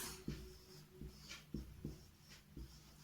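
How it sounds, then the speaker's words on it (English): Numbers being written on a board make quiet, faint strokes, about five short scratchy marks in an uneven rhythm, close by, with no talking. "We will write the numbers like this."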